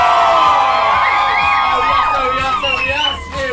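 A cheering crowd roars for a drag queen hostess, the skinniest drag queen in Scotland, at a Hogmanay show: loud, sustained whoops and shouts filling the whole stretch, easing slightly at the end.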